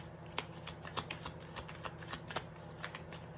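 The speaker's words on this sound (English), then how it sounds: "Two more shuffles" Tarot cards being shuffled by hand, a quiet run of soft riffling flicks and papery slaps in an uneven rhythm, close up with no voices.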